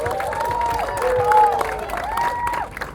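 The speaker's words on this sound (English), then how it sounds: "Can we give them a big round of applause, everybody?" An audience at a Singapore light, sound and multimedia event gives a team a round of applause, a moderate burst of clapping and some cheering that swells midway and then thins out, with voices and tones over it.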